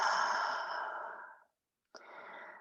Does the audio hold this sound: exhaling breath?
yes